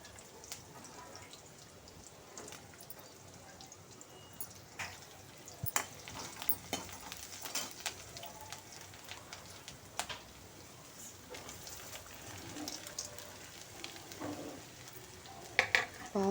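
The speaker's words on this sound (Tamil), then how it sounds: "பாவக்காய் நல்லா எண்ணெயிலே வதக்கி விட்டுட்டே இருக்கணும்." Bitter gourd sautés in hot oil in a home kitchen, giving a steady soft sizzle with occasional stirring clicks and scrapes, faint and close, with no voices.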